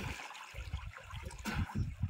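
Water splashing and sloshing as people bathe together in the evening, irregular bursts of splashes close by with a brief louder splash midway.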